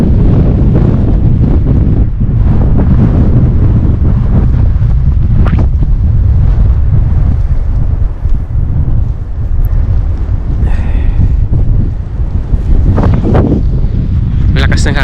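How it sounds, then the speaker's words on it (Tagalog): Strong wind in Sirdal, Norway buffets the microphone in a constant loud roar, with brief gusts and lulls throughout. "Lakas ng hangin."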